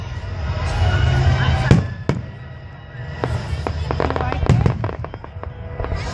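Fireworks bursting at a 2014 outdoor show in Redding, a series of loud booms and crackling pops coming in clusters at a distance, with a crowd murmuring beneath them.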